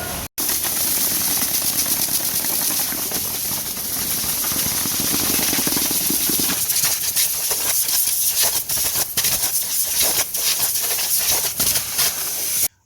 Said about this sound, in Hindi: इस पाइप में शक्तिमान वाली ताकत है, पूरी धूल उड़ा दी भाई साहब